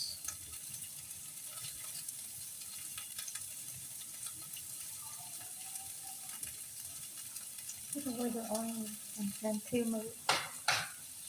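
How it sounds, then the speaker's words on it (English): Soft, steady sizzling of chopped onion and Vietnamese sausage frying in a pan, with scraping and clattering from stirring growing louder toward the end. "Look at this sizzling."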